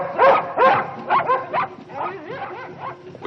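Dogs bark and yip repeatedly in short bursts from a distance along a waterway where barges pass, with a few higher whimpering yelps toward the end.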